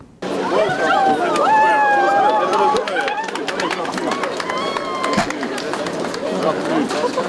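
A packed street crowd in Lviv's Rynok Square greets Boris Johnson with dense chatter, shouted calls and scattered clapping, a loud, close hubbub with overlapping voices rising and falling throughout.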